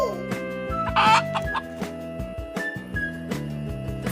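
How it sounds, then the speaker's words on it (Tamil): Hens cluck in a steady run of short, choppy calls, with a sharper squawk partway through, close and fairly loud. "கோழி."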